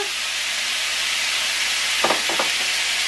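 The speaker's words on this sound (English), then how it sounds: "So just gonna let it saute for about 20 seconds just to start cooking the carrots." Carrots sautéing in a hot pan give off a loud, steady sizzle and hiss throughout, with a couple of brief stirring scrapes near the end and no talking.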